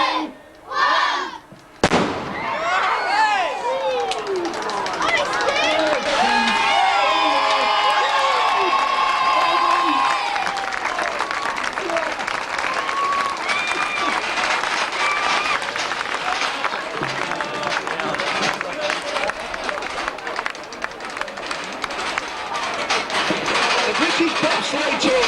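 A large crowd cheers and applauds at the opening of the Avalanche bobsleigh ride at Blackpool Pleasure Beach, loud and sustained after a sharp start, with shouts and whistles rising above the steady roar.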